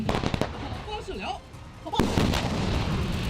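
Artillery guns fire in a military exercise, with a sharp heavy blast near two seconds rising out of dense rumbling background noise and a sustained roar after it; other booms sound softer and farther off.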